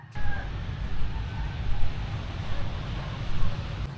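Wind and surf on a beach in the Philippines, a steady broadband wash of breaking waves with gusty wind buffeting the microphone, fairly close and continuous throughout with no clear talk.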